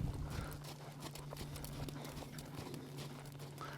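Mare's hooves clip-clopping on ground while working cattle, a steady rhythm of soft thuds under a low hum, at moderate distance, with no talking.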